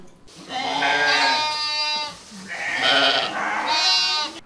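Sheep bleat on a farm in Ukraine's Vinnytsia region, with two long, loud wavering calls close by and a short pause between them.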